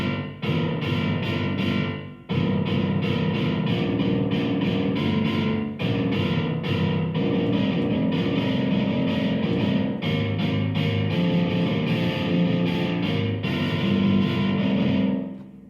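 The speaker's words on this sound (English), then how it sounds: "I'm surprised how amazing a seventh sounds in the treble section with distortion." A piano run through a distortion effect plays sustained seventh chords in the treble section. The tone is thick and buzzing, with a few short breaks between chords and no voice.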